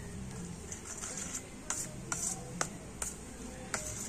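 Soft scraping and clinking as sour yogurt is mixed with baking soda and baking powder in a bowl, quiet stirring with a handful of sharper taps against the sides.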